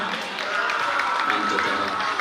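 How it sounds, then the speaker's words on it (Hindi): Audience applause at a cultural program in a Jain temple in Kota, a steady dense wash of clapping filling the whole short stretch at close range. "जोरदार तालियां।"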